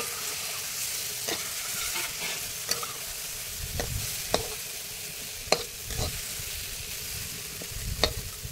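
Fish pieces are stirred in a pan of sizzling chilli masala, with a steady frying crackle broken by sharp scraping strokes of a spoon at irregular intervals, close and clear, with no talking.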